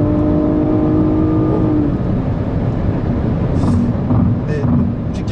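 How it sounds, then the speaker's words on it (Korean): Engine of a Nissan Maxima four-door sports sedan accelerating on a road test drive, a steady loud drone with rising harmonic tones in the first two seconds under road and wind noise, continuous throughout. "지금은 가속을 해보겠습니다"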